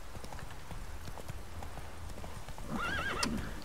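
Horse in The Witcher 3 game, hooves clip-clopping in a quick run followed by a clear, rising and falling neigh near the end.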